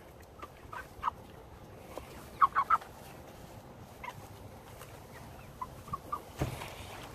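Farm chickens cluck in short, scattered bursts at moderate distance over a quiet outdoor background, with a quick cluster of three calls near the middle and a few more toward the end.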